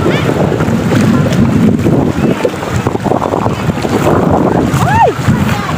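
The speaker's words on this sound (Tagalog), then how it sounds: "Medyo mahangin ang kunti." Wind gusting at a sunny beach in San Juan, Batangas, buffeting the microphone in a steady loud rumble with lapping water beneath, continuous through the whole stretch.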